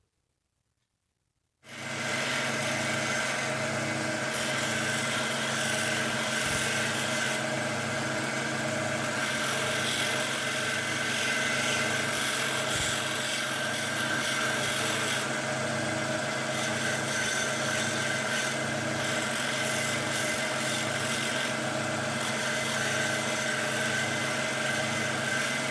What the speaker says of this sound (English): Now I'm going to get to work with my coarse conditioning belt and blend everything together.